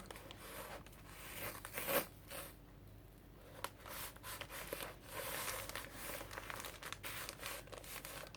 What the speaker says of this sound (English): Just putting some masking tape here in the middle.